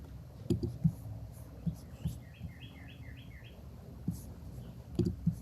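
A bird chirps a quick run of short, high notes in the distance, heard faintly over soft close-up thumps and shuffling.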